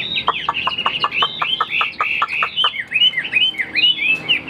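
A fighting rooster offered for sale gives a loud, close run of sharp repeated calls, then rising and falling chirp-like cries. The calls sound more like clucking and chirping than a full crow, with no talking.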